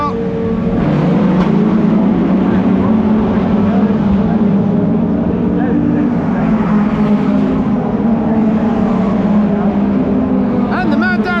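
A pack of race cars, including a Ford Focus ST, roars off the line at a race start at Snetterton circuit, a loud continuous engine drone heard from inside the car with no talk.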